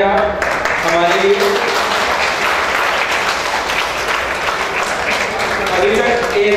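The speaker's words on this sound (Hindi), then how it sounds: "मैं चाहता हूं कि जोरदार तालियां बजाएं आप।" An audience at a real estate company's branch opening claps loudly and continuously, a dense crowd of applause filling several seconds with a faint voice at the edges.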